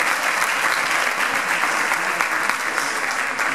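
Loud, dense audience applause fills a race presentation for the K42 Mallorca 2016 trail running favorites, steady clapping sustained throughout without a break.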